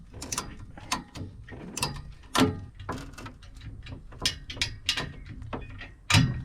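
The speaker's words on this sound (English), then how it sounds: "Simply tighten your ratchet strap," A ratchet strap is tightened in a shop with a series of sharp, close mechanical clicks and clacks, some louder cranks among quicker ratcheting, and no talking.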